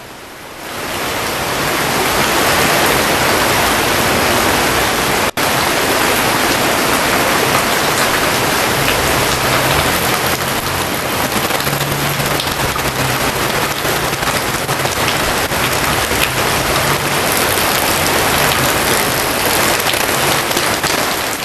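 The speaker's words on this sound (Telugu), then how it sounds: "నగరం అంతా కుండపోత వాన కురుస్తోంది రెండు గంటలుగా భారీ వర్షం కురుస్తోంది" Heavy rain pours steadily in Hyderabad in a dense, continuous roar, loud and unbroken throughout with no voices.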